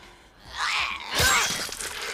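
Glass tanks shatter during a TV show fight scene, a sharp crash followed by tinkling, scattering fragments, with a fainter impact and rising noise just before.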